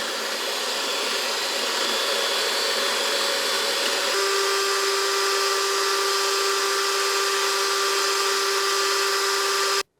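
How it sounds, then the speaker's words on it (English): An electric hand mixer whips six egg whites toward stiff peaks: a loud, continuous motor whine that shifts pitch partway through and then cuts off abruptly at the end. "since I just have 6 egg whites, I'll use my hand mixer"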